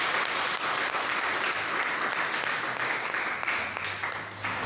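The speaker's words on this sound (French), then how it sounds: "nous les applaudissons." Students at a high school in Natitingou applaud a returning former pupil, a steady, dense clapping from a large group heard from a little distance, continuing evenly throughout.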